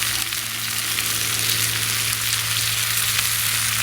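Polish kielbasa and onions fry in a 10-inch skillet over a wood gas stove, giving a steady, loud, close sizzle that holds without a break, with a low hum under it and no talking.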